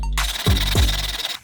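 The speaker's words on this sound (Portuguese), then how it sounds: "então a gente passa a lixa, como é plástico, ele abaixa bem facinho" Sandpaper scraping across the cut edge of a plastic bucket, a continuous rough rubbing with two brief heavier strokes partway through, close and alone.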